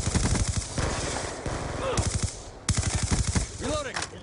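Rapid automatic gunfire in a Call of Duty match, loud bursts of shots in quick rhythm broken by short pauses, with a player talking over parts of the action.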